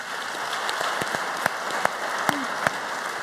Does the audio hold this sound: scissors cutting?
no